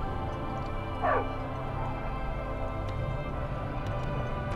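A single short dog bark or yip sounds once amid a steady low background hum in the Far Cry 5 video game, fairly faint with no talking.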